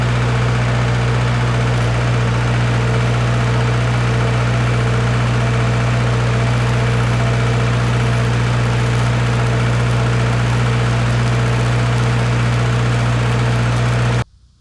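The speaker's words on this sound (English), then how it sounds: "it kind of sounds like we got a knock. It might be an injector knock" Engine-driven Red-D-Arc welder with a suspected injector knock runs at a steady, close, loud idle, a constant low drone with no voices, cutting off abruptly at the very end.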